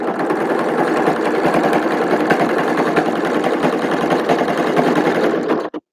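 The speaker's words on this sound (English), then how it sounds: "We're gonna overlock it, or we're gonna basically overlock." An overlocker serger sewing machine runs continuously while stitching fabric, a loud, steady, close mechanical whir with a fast rapid rhythm that cuts off abruptly near the end.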